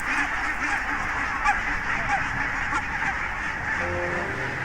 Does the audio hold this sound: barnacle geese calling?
yes